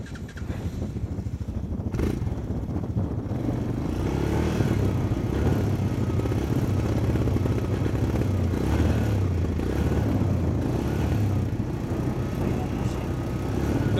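An ATV engine revs steadily and loudly while stuck with its diff lock off and only three wheels driving, a continuous strained drone throughout with brief clatter.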